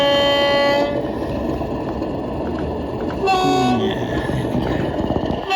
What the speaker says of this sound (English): Horns sound good, Simon.